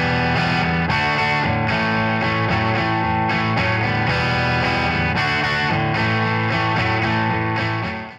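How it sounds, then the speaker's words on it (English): Heavily distorted electric guitar through an amp, blending a close SM57 with a Rode NT2A set back from the cabinet; a full, loud, sustained riff with rhythmic chord changes plays alone for about eight seconds. "So now let's look at applying a little bit of EQ to this guitar track."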